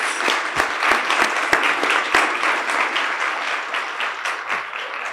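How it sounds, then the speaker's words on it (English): A hearty round of applause from an audience at a panel on art, slavery and reconciliation, dense and sustained with a few sharp individual claps standing out, close and loud, no talking. "Let's give another hearty round of applause for these impactful artists."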